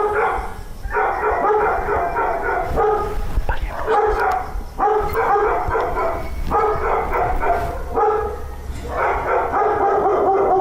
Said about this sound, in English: more dogs still barking from inside, so they proceed with caution